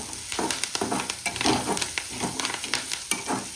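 Cleaned greens hit a hot frying pan for chicken liver pepper dry, giving a steady crackling sizzle broken by repeated scraping stirs, close and fairly loud with no talking.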